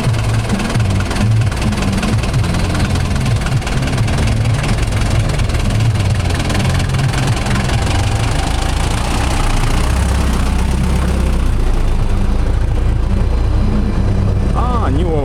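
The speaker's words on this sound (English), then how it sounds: "More air-cooled diesel sounds." An air-cooled Magirus Deutz diesel fire engine idles loudly and close by at an oldtimer campground, its heavy, rough, knocking drone continuous throughout with faint background voices.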